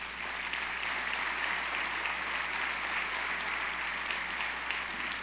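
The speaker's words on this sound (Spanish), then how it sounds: "Dale otro fuerte aplauso a Dios." A church congregation applauds during a sermon, a continuous even spread of many hands clapping at moderate level, heard from some distance and without voices rising above it.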